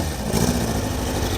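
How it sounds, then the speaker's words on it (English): A Caterham 7 sports car at a breakfast car meet, its throaty engine running with a brief rise in revs, close and steady over outdoor crowd background. "You can hear something pretty throaty also going. It's that lovely Caterham 7."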